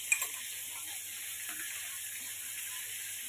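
Spices and chili frying in oil for a fish and eggplant curry, with a steady soft sizzle throughout, a couple of brief clicks near the start and a faint low hum underneath.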